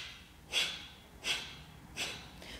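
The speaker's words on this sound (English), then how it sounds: "breath of fire it's a strong exhale right from your gut" Three sharp, forceful breath-of-fire exhales pushed from the gut in a yoga pranayama class, evenly spaced about three-quarters of a second apart, close and breathy with no talking.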